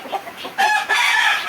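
Tiger breed chickens, heavy birds of about four kilograms, on a poultry farm: soft clucking at first, then loud, sustained crowing and calling from nearby birds filling the rest of the clip.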